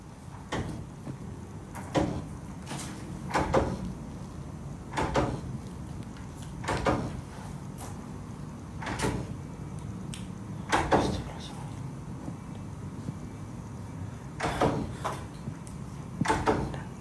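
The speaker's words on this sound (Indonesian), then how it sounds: "Kayak ada suara ketukan pintu, men." Sharp knock-like raps come from an unseen source in a quiet indoor space, sounding about a dozen times at irregular intervals over a low background murmur of voices.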